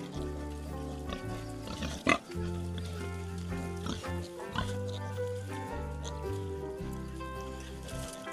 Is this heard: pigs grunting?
yes